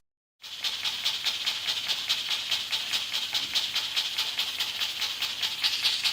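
Steady, loud hiss of steam from a pressure cooker cooking mustard greens, with a fast pulsing rhythm, continuous from just after the start to the end, with no talking.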